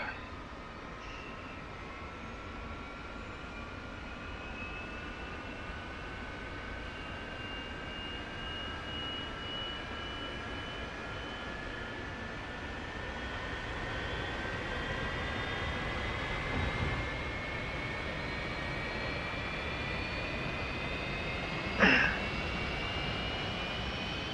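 F-86F Sabre jet engine spooling up to idle, a steady rising turbine whine over broad roaring rumble, continuous and fairly loud with a brief click near the end.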